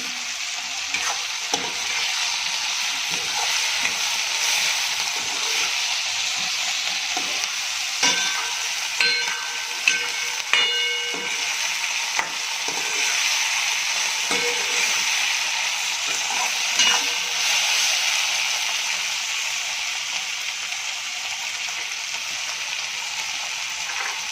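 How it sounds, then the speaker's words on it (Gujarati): Vegetables for veg pulao stir-fry on high flame, giving a constant, close sizzle of hot oil with frequent spatula scrapes and light metallic clinks against the pan throughout. "આ રીતે આપણે હાઈ ફ્લેમ ઉપર એને હલાવતા ફ્રાય કરવાના છે."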